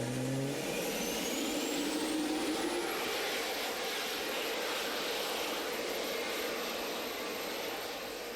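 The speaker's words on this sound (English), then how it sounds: "Some of the engine parameters are to be checked before the flight in this MiG-29." MiG-29 fighter jet engine running steadily during a pre-flight ground check with a technician in the cockpit, a loud continuous roar with a rising whine, sustained throughout without speech.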